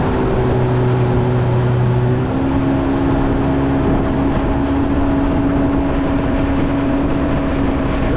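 A boat engine drones steadily and loudly throughout a river ride on a trip to St Cuthbert's Mission, Guyana, with a constant low hum whose pitch shifts slightly partway through.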